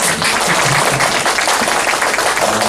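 Audience applause at a community workshop, a room full of people clapping steadily and loudly throughout, dense and continuous with no pauses, some murmuring underneath.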